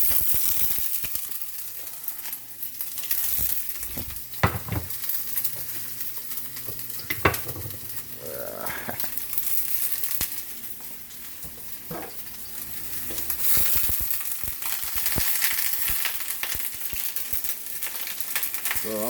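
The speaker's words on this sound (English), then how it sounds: "I'm just going to cook these onions" Onions fry in a pan on the stove, giving a steady crackling sizzle throughout, with occasional clinks and scrapes as they are stirred, close and moderately loud and with no talking.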